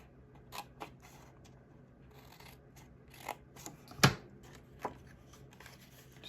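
Scissors snip through a paper treat box in a few sharp, separate cuts, with one louder crisp snip among quieter ones, close and alone against a quiet room.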